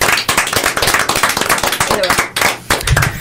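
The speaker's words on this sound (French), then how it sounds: "On applaudit Leslie." Close, loud clapping from a small group in a radio studio honouring a departing host after eight years on air, with sharp individual handclaps in an uneven rhythm, a brief lull, then more claps as voices chatter underneath.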